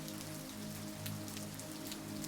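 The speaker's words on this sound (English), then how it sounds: "the distant, reassuring sound of rain" Steady rainfall pattering on surfaces, a dense continuous hiss with soft scattered drops and a faint low hum underneath, no voices.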